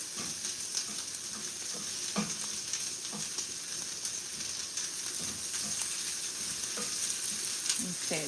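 Garlic sizzles in a pan with a dense, steady frying hiss and occasional stirring scrapes and taps, close and continuous.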